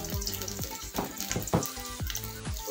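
Garlic frying in oil left over from cooking calamari, a bright crackling sizzle with several sharp clinks and scrapes of a utensil against the pan, close and fairly loud.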